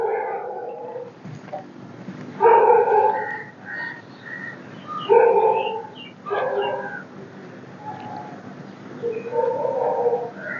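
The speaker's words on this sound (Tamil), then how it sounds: "இப்படி வெளியில் ஒரு நாய் குலைச்சிக்கிட்டே இருக்குது" A dog barks repeatedly outdoors, a few sharp yelping calls spread across the span at moderate distance, with quiet background hum between the barks.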